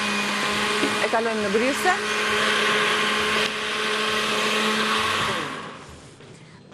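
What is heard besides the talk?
blender mixing honey, orange juice and apple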